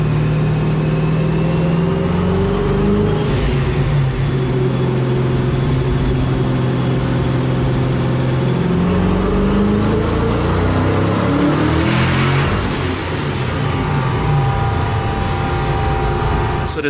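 A 1000-horsepower Dodge Hellcat engine drones under load, its pitch sweeping steadily upward as revs build, then peaking and falling back, loud and sustained throughout.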